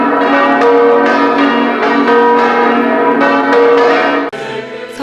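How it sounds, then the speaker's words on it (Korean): Church bells ring at the Basilica of Saint Francis in a loud, continuous peal of overlapping strokes, with rich sustained tones that briefly drop off and resume near the end. "프란치스코 대성당의 아름다운 종소리를 따라 사람들이 모여들었다."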